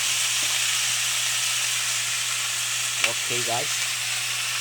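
Pumpkin (kalabasa) sautéing in a pan for ginataang gulay, a steady loud sizzle and frying hiss throughout, with a brief spoken aside partway through.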